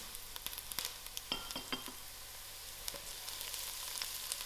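Sliced garlic, onions and thyme frying in a pan, giving a soft, steady sizzle with faint crackles and light stirring taps, close but quiet, with no talking.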